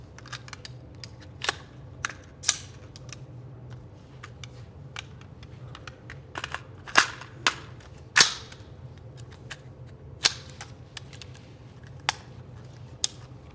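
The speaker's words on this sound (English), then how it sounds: "All right, we're gonna have you shoot this one more time." Sharp carbine shots ring out in quick bursts of about five, widely spaced groups of crisp reports at a shooting range during a quarter drill, standing out clearly over a quiet background.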